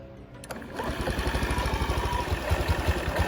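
A 2003 Honda Ruckus scooter engine catches and settles into a fast, even putter, close and steady after a brief starting clatter, once fuel leaking has been stopped.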